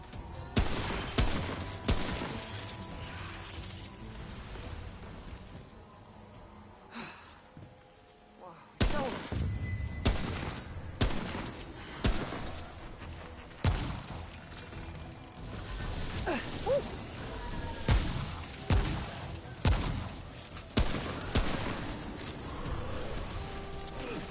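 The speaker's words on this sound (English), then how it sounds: "Where are those shots coming from?" Gunfire in the video game Remnant From The Ashes: a run of sharp, loud shots and mechanical clicks spread across the scene, with a brief lull midway before more bursts, over constant game ambience.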